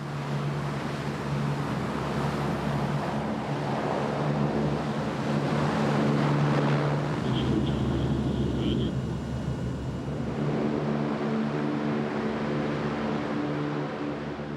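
An LCAC hovercraft powered by four gas turbine engines roars loud and continuous, with droning turbine tones and a brief high whine partway through, and a voice speaks over it.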